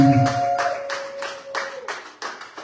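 A church congregation claps in acclaim of Jesus during a Sunday service: a run of roughly eight or nine loud, evenly spaced bursts of clapping, with a sustained tone and some voices faintly underneath at the start.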